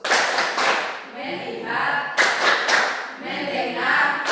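A group does a 'tepuk fokus' clap routine, chanting words in rhythm and then breaking into bursts of quick, loud, close claps, with the chant and clapping pattern repeating.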